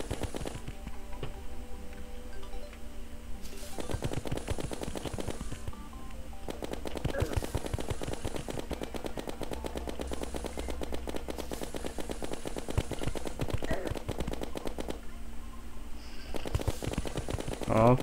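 A wyvern attack battle in the video game Terraria fills the clip with rapid, dense electronic firing and hit sounds over looping game music, and a player talks over the action.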